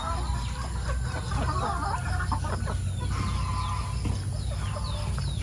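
Chickens clucking at a farm in Glan, Sarangani Province, several birds giving scattered close clucks and squawks over a steady low background hum.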